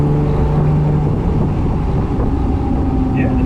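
A Ferrari 275 GTS idles smoothly and steadily at close range, a low even engine hum with light wind noise and no talk over it.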